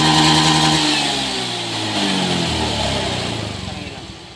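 Motorcycle engine revving after a carburetor cleaner treatment, a close mid-pitched rev that rises and falls, then settles toward a rougher, uneven idle.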